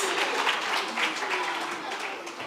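Conference audience applauding at a teaching and learning event, a steady, fairly loud wash of many hands clapping that holds evenly for a few seconds with faint voices mixed in.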